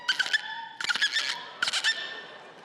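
A young girl imitates a dolphin, producing three bursts of high, clicking, chirping squeaks with brief gaps between them, clear and close with a quiet background.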